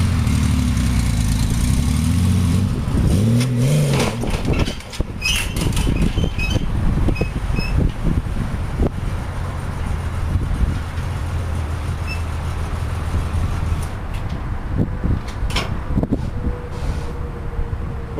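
A Honda Valkyrie motorcycle engine idles loudly and close, revs briefly as the bike rides up into a van, then settles into a quieter low rumble with some clunks and rattles.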